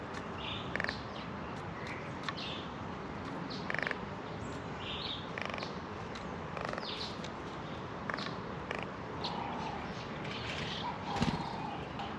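Birds chirp and call in a leafy garden with seed feeders, with scattered short tweets and calls over a steady outdoor background.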